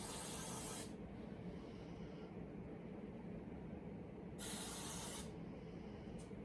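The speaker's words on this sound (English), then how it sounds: "I do the same thing, hairspray all the way around" Hairspray hisses from an aerosol can around a girl's styled recital hair in two quiet bursts, the first about a second long and the second longer, with a faint rustle between them.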